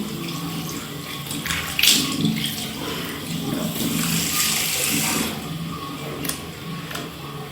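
Water runs steadily from a tap into a sink while someone wets and washes their face, a continuous close splashing rush with a few brief louder splashes and no talking.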